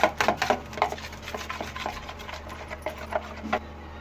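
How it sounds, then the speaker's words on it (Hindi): Eggs for a potato omelette whisked in a bowl, with a run of quick, light clinking and tapping strokes at an uneven rhythm, close and fairly quiet. "अंडे को हम कर लेंगे अच्छी तरह से मिक्स।"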